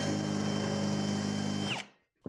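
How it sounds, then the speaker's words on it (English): A power drill running in reverse, backing out of a hole saw cut in wood, whirs loudly and steadily up close, then winds down and stops, followed by a short silence and a brief click. "Run your drill in reverse, drill that out"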